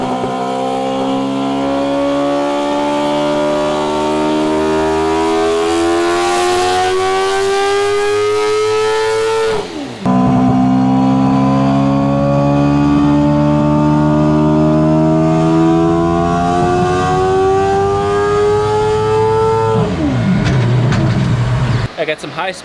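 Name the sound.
four-rotor rotary engine revving on a dyno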